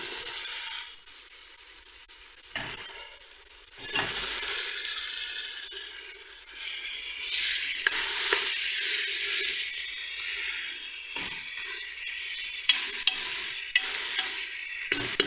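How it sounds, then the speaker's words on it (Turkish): Kidney beans sautéed in a hot pan, loud continuous sizzling broken by repeated scraping stirs of a utensil. "Bu şekilde 2 dakika kavuracağım."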